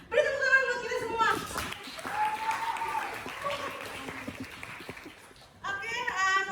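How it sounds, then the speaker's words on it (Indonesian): A classroom of students breaks into several seconds of lively, close applause, framed by a teacher's voice speaking before and after. "Beri tepuk tangan buat kita semua"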